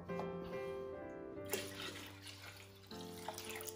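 Cold bottled water pours into a pot of cheese curds while washing them for Butterkäse, a quiet continuous trickle and splash with faint hum in the background.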